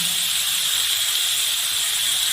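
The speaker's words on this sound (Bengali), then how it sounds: "এবার আলুটাকে অল্প লাল করে ভেজে নেব।" Potatoes fry with turmeric in a pan, making a steady, close hiss that stays even and continuous throughout with no other sounds.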